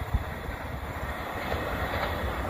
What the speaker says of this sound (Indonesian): Kereta api Indoho dari Surabaya menuju ke arah Mojokerto.